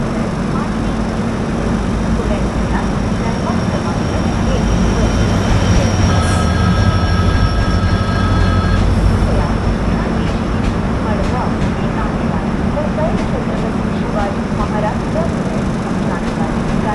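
The Mandovi Express train rumbles and rattles steadily as it leaves Sawantwadi Sindhudurg station, a loud continuous rolling roar with a brief high squeal of wheels midway, heard from inside an AC 3-tier coach.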